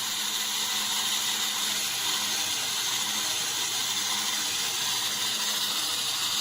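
A portable sawmill running with its blade cutting, a steady, fast mechanical chatter like a sewing machine, continuous and even throughout, with a high whirring hum and no voices.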